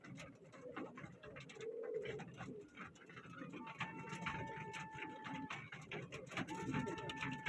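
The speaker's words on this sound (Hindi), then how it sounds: "उड़ रहे हैं कबूतर माशाल्लाह" Pigeons coo softly and repeatedly amid outdoor background noise, with a few thin whistling tones and occasional voices nearby.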